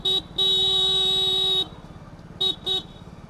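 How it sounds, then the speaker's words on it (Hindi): Car horn honks from inside a ride-hailing vehicle: one short toot, a long sustained blast, then two quick short beeps, loud and close over a low engine idle. "हॉर्न बजाता हूँ इसके।"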